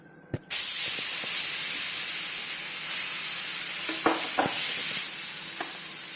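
Mung dal batter poured onto a hot oiled griddle bursts into a loud, steady sizzle after a brief knock, hissing close and constant with a few soft clicks of a utensil and no talk.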